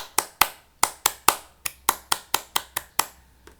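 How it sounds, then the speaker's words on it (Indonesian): Scout rhythmic clapping routine (tepuk pramuka) during an elementary school scout activity: about a dozen sharp, close hand claps in a patterned, uneven rhythm, heard alone with no talk. "mari kita tepuk pramuka dulu"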